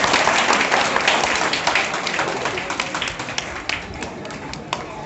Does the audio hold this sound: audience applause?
yes